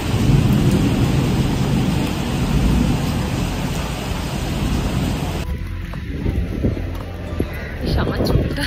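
Heavy rain pours during a dark, cloudy storm in Digha, a seaside town, with thunder rumbling through it. A loud, dense, continuous roar of rain thins and changes character partway through, and low rumbles keep rising underneath.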